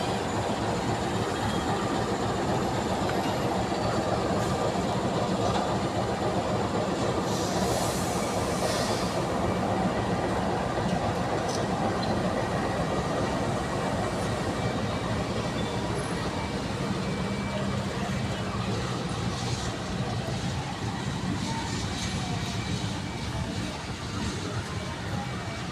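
A train rumbles past a level crossing close by near Yogyakarta's Lempuyangan or Tugu station, with a constant heavy roar and rattling wheels, loud and unbroken throughout, with faint squeals now and then.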